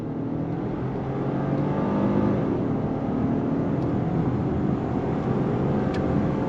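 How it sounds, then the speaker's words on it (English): Steady engine and road roar of a 2023 Genesis G90 luxury sedan accelerating on throttle in comfort mode, smooth and even from inside the cabin, with no speech. "we're going to go on throttle. Here we go. On throttle,"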